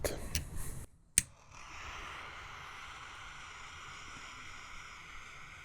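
A Don Thomas cigar being cut gives a single sharp, close snip after some soft handling noise, followed by a quiet, steady room hum.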